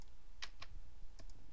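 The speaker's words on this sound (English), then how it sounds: "So I'm typing a comma to get to the next one, comma" A few sharp, separate keystrokes on a computer keyboard while entering an Excel spreadsheet formula, close and crisp over a quiet background.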